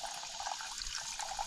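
Water pouring into a 4-litre Cedar Summit hiking water pouch at a solo campsite, a steady close hiss and trickle of filling liquid with no speech.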